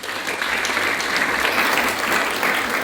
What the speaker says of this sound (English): let us give them once again with a big round of applause